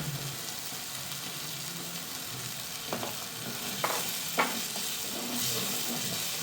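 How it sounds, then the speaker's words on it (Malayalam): A tomato and onion mixture for butter chicken sizzles steadily in a pan as water is added, with a few soft clicks and the hiss swelling slightly near the end. "ഇനി ഇതിലേക്ക് കുറച്ച് വെള്ളം ചേർക്കാം"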